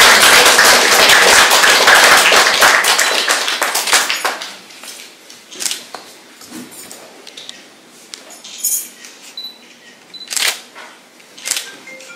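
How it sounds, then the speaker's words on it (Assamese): An audience at a book event in a hall applauds loudly for about four seconds, then the clapping fades into scattered claps and sharp camera shutter clicks. "হাত চাপৰি দিলে ভাল পাওঁ"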